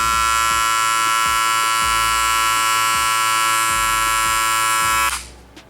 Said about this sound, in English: you can listen to a rotary motor in comparison from the Wall 5-Star Senior